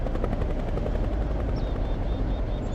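A helicopter in the video game Interloper drones steadily with a continuous rotor chop and engine rumble, loud and close throughout, with faint high chirps over it.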